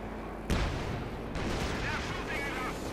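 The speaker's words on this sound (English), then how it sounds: "He's just going to target practice for the Pack howitzers." Pack howitzer artillery fire in the Company of Heroes 2 strategy game, with a sudden loud booming shot followed by another rumbling blast and lingering battle noise under a commentator's voice.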